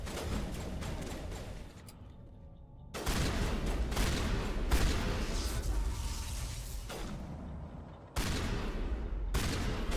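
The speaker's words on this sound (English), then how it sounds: "Switching to my shotgun." Heavy shotgun blasts in Mass Effect come in several loud, sustained bursts separated by short near-silent gaps, with no talking over them.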